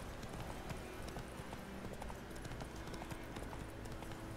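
Hooves of a horse in The Witcher 3 video game clip-clop in a steady, continuous rhythm close by, with occasional soft game ambience and no talking.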